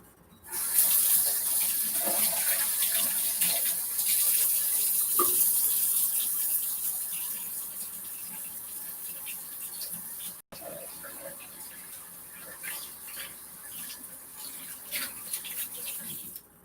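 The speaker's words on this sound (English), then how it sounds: "wash my hands" A kitchen sink tap runs steadily while hands are washed, a loud continuous gush of water with brief splashes and a short break near the end.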